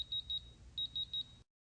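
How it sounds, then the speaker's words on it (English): A Digilock electronic locker lock sounds its low-battery warning, two sets of three short, clear, high-pitched beeps separated by a brief pause, close and alone over a faint hum. "the lock emits 2 sets of 3 beeps,"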